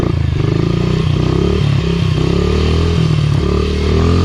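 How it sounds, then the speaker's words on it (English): Small Honda CRF dirt bike held in a wheelie on very little throttle, its engine buzzing loud and steady at close range with rising and easing revs and some mechanical clatter, no talk. "You don't really have to do much on these little bikes. They seem to come up by themselves and just cruise along."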